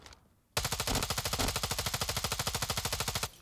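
Rapid automatic gunfire from a video game, a sustained burst of evenly spaced shots that starts abruptly after a brief quiet moment and runs to the end.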